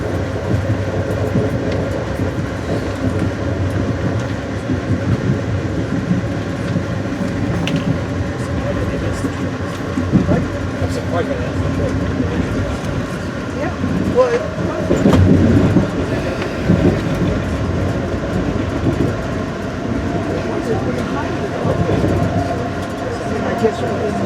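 An Amtrak excursion train hauled by an AEM-7 electric locomotive rolls along the rails, a steady loud rumble with faint clicks from the track, while a voice speaks over it.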